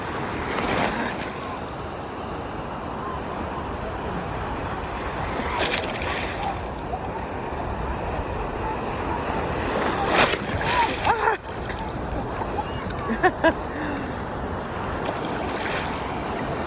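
Stormy sea waves at Anapa beach rumble and wash in continuously under gusting wind noise, with occasional voices and splashes nearby.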